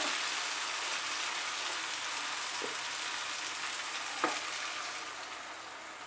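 Beaten egg poured over softened tomato in a pan on medium heat, giving a steady, fairly loud frying sizzle throughout with a couple of brief soft clinks.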